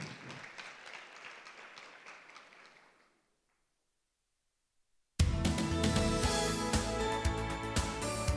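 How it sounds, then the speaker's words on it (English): An audience at a corporate speech event applauds for about three seconds and the clapping fades out, followed by silence and then a loud burst of music. "Give him a big round of applause."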